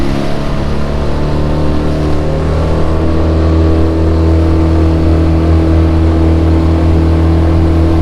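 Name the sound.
boat motor speeding up on a river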